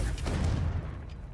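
A Confringo fire spell blasting in the Hogwarts Legacy video game, one short muffled boom that fades quickly.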